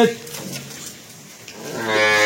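A large dairy cow, a high-yield milker, moos loudly and close by. The low call swells, sags in the middle, then rises again strongly at the end.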